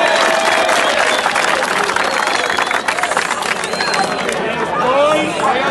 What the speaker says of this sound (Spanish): Ay, ¡un aplauso!